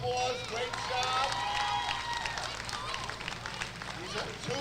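Crowd clapping and cheering at a youth 10-and-under baseball championship game, mixed with steady outdoor chatter and voices, a busy open-air hubbub throughout.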